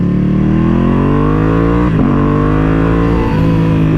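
A 2021 Ducati Panigale V2 with a full titanium Akrapovič exhaust rises in pitch under acceleration, loud and close, with a brief gear-change dip midway before climbing again; no talking.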